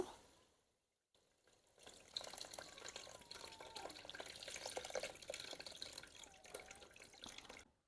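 Tamarind extract pours into a large pot of fish curry with a soft, steady liquid splash that lasts several seconds after a brief pause. It is faint and close, with no talk.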